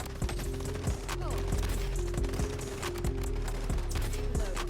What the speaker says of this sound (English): Strafe firing is simply moving side to side while shooting.